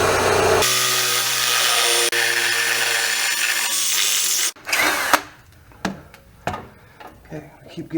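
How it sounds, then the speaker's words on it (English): Power drill boring through metal with a step bit during a train horn install, a loud continuous whine that stops abruptly, followed by clattering handling noises and clicks. "these step bits are notorious for grabbing and twisting regular drills"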